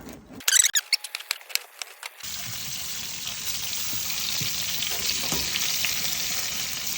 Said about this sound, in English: We're going to mix these up in our skillet with some onions for the low carb guys.